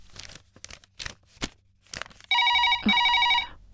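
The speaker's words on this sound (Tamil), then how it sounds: "ஃபோன் வேற அடிக்குது." A telephone rings loudly in two long electronic bursts with a short gap between them, following a stretch of scattered indoor clatter and rustling.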